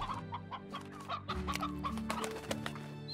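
Briar hens from the video game Slime Rancher cluck repeatedly in short bursts over steady game background music, with no talking.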